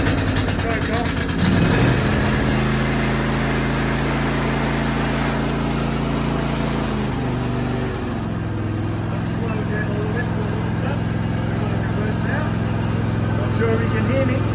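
A ride-on lawn mower's engine runs continuously close by, a loud steady idle with a slight shift in pitch midway, while someone talks over it.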